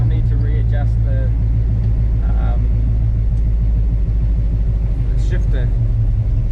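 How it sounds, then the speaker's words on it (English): A 1946 Chevrolet hot rod truck engine idles close by with a steady low rumble and an even ticking lifter clatter, while someone talks over it at points. "Definitely got lifter clatter and stuff going on"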